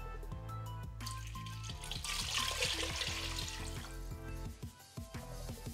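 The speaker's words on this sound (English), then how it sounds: "we're gonna add all of the stock now" Vegetable stock for a bean minestrone pours steadily into a boiling soup pot, a continuous liquid splash and gurgle over bubbling, with no talk.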